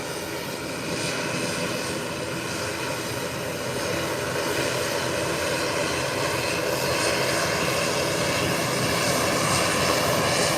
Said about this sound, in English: And it's up and away, heading into Dallas. Another beautiful takeoff.